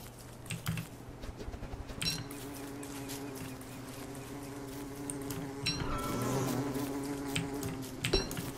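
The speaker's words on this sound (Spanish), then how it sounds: "No nos quieren las putas abejas de los cojones." Bees buzz steadily in Don't Starve, a droning hum heard alongside sharp keyboard clicks and scattered game effects, with no one talking.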